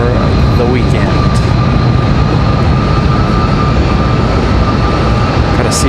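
A jet airliner departing Raleigh-Durham airport gives a loud, sustained engine roar with a steady high whine, filling the whole stretch without a break.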